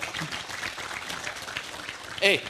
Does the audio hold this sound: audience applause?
yes